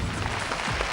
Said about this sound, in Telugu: okay, clap